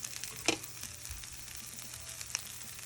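Onion and rice fry together in a pan for Mexican rice, giving a steady, quiet sizzle broken by a couple of light utensil clinks, with no talking.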